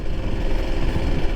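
A motorcycle engine idles to charge its battery, a loud, close, steady low rumble with a continuous throbbing texture and no talk over it.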